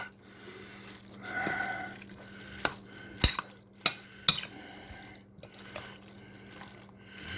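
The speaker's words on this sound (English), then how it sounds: "Now, let's mix that in real good." Diced fire-roasted tomatoes and green chilies from a whole can being stirred into a dish, giving soft wet squelching and scraping with a few sharp clinks of the spoon against the pot, close and fairly quiet, no talking.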